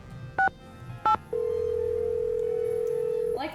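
Touch-tone telephone dialing in the Nancy Drew: The Final Scene video game: two short keypad beeps, followed by a steady tone lasting about two seconds, then a brief burst of other sound.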